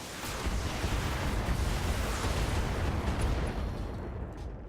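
Mech weapons fire and explosions in BattleTech, a dense, heavy barrage of booming blasts and rumbling impacts that swells and rolls continuously before easing off at the end.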